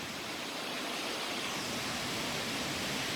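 Waterfalls pour down the cliffs below Glacier Point in Yosemite, a loud, steady broadband rush that holds constant and fills the whole scene with no voices.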